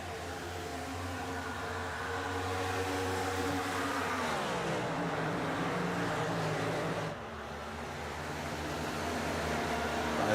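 Stock cars race at speed on the Kentucky oval, a dense steady engine roar with a pitch sweep as the pack passes, loud and continuous with a brief dip near the end.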